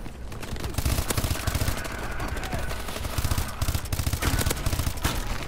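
An IMR assault rifle in the Call of Duty: Advanced Warfare video game fires sustained automatic bursts, dense and loud. The rapid shots run almost continuously, with brief gaps between volleys.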